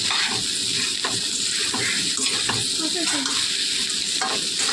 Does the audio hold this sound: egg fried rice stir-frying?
yes